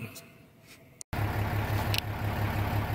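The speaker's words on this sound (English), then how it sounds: "as you can hear, my diesel truck is on." A diesel truck engine idles steadily nearby, a low even rumble with a faint periodic throb that continues without change after a brief dropout.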